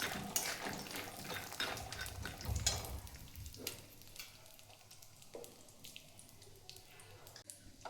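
Peanuts and sesame seeds roast in ghee in a pan for poha laddoos, giving a dense, loud sizzle with stirring scrapes early on that thins to a quieter, steady fry with occasional clinks.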